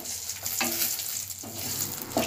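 Spices such as cumin, dried chilli and bay leaf spluttering and crackling in hot oil for a savoury arvi (colocasia) khatta, a steady sizzle with sharper pops and bursts, close and alone with no talking.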